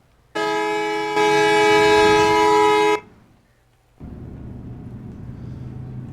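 A train in a driving video game set on a Bangladesh map sounds a loud, sustained horn blast lasting a few seconds. After a short pause, a steady low rumble of the running train follows.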